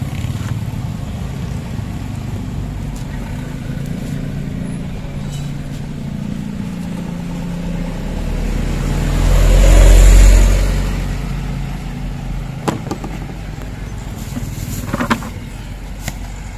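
A car maneuvers to park, its engine swelling louder for a moment near the middle before settling, over a steady hum of road and traffic noise.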